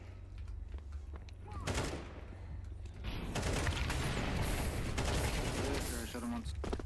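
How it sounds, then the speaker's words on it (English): Bursts of gunfire in the shooter game CS2, rapid cracking shots clustered in a few volleys over a low background rumble, fairly close. "I shot him once."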